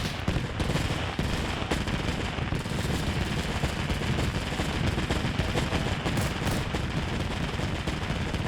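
M39 weapon firing in an Arma game session, heard as a dense, continuous barrage of rapid shots and blasts that fills the whole stretch with loud, steady battle noise.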